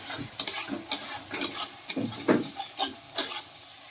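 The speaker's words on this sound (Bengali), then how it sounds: "এটা ভালো করে এবার তেলের মধ্যে একটু নেড়ে নেবেন সোয়া সসটা" Soy sauce being stirred into hot oil for restaurant-style noodles, with a string of close scraping strokes about every half second over a soft background sizzle.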